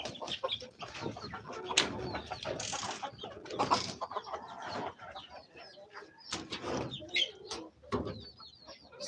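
Chickens cluck and squawk steadily nearby in a grower house on a chicken farm, a busy mix of short calls with some clattering in the background.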